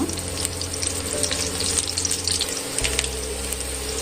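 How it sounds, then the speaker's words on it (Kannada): Two long-sliced onions fry in hot oil, giving a continuous close sizzling hiss with scattered crackles and a low background hum throughout. "ಕಾಯ್ದಿರೋ ಎಣ್ಣೆಗೆ ಎರಡು ಈರುಳ್ಳಿನ ಉದ್ದುದ್ದಾಯಿಸಿ ಹಾಕ್ಕೊಳ್ತಾ ಚೆನ್ನಾಗಿ ಫ್ರೈ ಮಾಡ್ತಾ"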